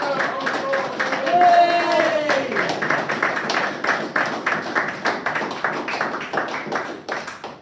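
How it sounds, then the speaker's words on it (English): An audience gives a round of applause after a live music set, with a voice over the opening before the clapping settles into a steady, crowded patter of many hands that tapers off at the end. "Round of applause."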